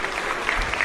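A short burst of applause as a sound effect: dense crowd clapping, steady and fairly loud for under a second, with no voices.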